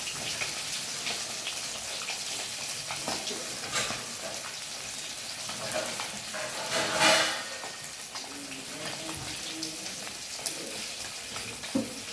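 Fish fries in a pan with a steady crackling sizzle for the whole stretch, close by, and one brief louder flare of spitting partway through; no one speaks.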